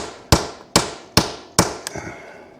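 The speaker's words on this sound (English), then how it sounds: "you hit it with a hammer inside the socket, which tears up your socket, but it releases the lug nut." Metal hammer blows on a socket seated over a stuck lug nut, four sharp, evenly spaced ringing strikes followed by a lighter tap, close and loud with no talking.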